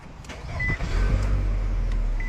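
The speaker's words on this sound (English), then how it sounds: "and start the car." A 2017 Nissan Altima starts with a newly programmed smart key: a short whir and click from the starter, then the engine settles into a steady close idle, with no talking.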